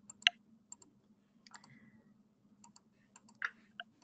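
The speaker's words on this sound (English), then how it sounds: "I hear you clicking." A computer mouse clicking during an online training webinar: sparse, sharp single clicks scattered irregularly over a few seconds, faint against a low steady hum, with no voices.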